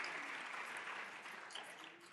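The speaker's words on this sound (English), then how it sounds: "Let's give another quick round of applause to our amazing keynote speaker, Sherry." Audience applause for a keynote speaker at a digital inclusion policy event, a dense, steady wash of many hands clapping that fades slightly toward the end.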